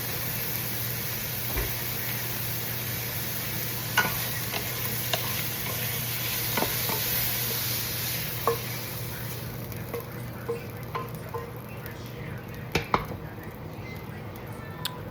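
Beef sizzles as it sautés in a pan for stroganoff, a constant crackling hiss with scattered small ticks and pops, fairly close and steady.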